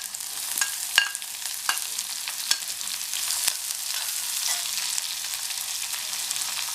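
Small shallots fry in hot oil with mustard seeds and urad dal, giving a steady, dense sizzle with sharp crackles and pops scattered throughout.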